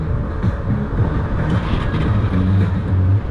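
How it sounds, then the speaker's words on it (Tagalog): A 2025 Suzuki Access 125 scooter's engine idles close by with a steady low rumble and hum, sustained throughout without talk. "Pakikinggan natin makina."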